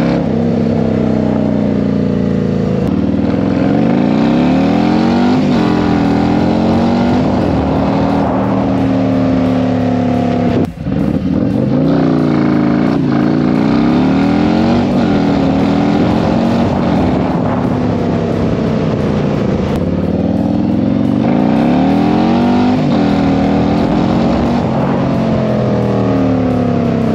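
A race-tuned, cammed 107-inch Milwaukee-Eight bagger motorcycle engine runs loud and close, rumbling at idle and revving up and down repeatedly, with one brief throttle dip midway and no speech.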